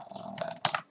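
Fingers tap out a short, quick burst of keystrokes on a computer keyboard while typing a chart title in Excel, close and crisp, with a slightly louder cluster of clicks near the end.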